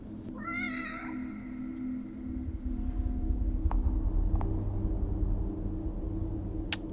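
A black cat in the horror game The Evil Within lets out a rising series of close, clear meows at the start, followed by low ambient rumble and a few sharp clicks.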